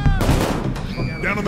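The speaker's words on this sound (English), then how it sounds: "Shots fired. We have shots fired." Gunfire in the PayDay 2 video game during a robbery: a loud close burst of rapid shots, a short pause, then more shots, with a voice shouting over it.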